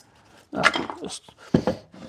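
A dog whimpers and gives short yelping barks in two separate bursts, fairly close and moderately loud, in an indoor home setting.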